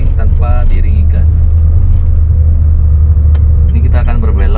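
Manual-transmission car engine rumbling steadily as the driver adds throttle after a gear shift, heard from inside the cabin with a low constant drone and someone talking over it.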